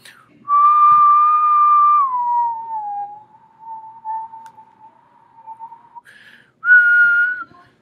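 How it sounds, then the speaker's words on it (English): A single person whistles a steady tone that slides down in pitch and holds, then a short higher whistle near the end, with no talking, as a frequency gauge reads the pitch. "so if I whistle"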